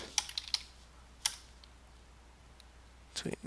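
Keystrokes on a computer keyboard during a coding session, a few quiet scattered clicks at the start, a lone tap, then a brief cluster of keys near the end, faint against low room noise.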